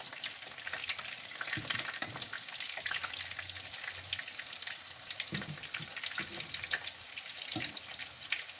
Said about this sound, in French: je vais venir les frire un peu comme ça, dans l'huile.